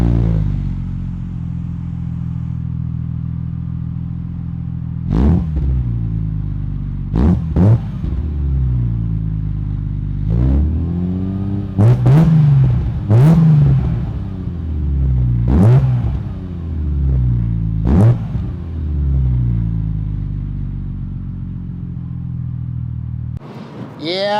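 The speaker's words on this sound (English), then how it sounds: "good sounds come out of a straight 6, especially with that Supersprint exhaust" A BMW E36 M3 straight-six with a Supersprint exhaust drives along, a steady deep grumble with several sharp revving surges and gear-change dips, loud and close throughout, ending with a brief cut.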